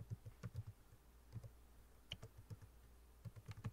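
Someone types code on a computer keyboard, close and quiet, in short bursts of rapid key clicks separated by brief pauses, with no voices.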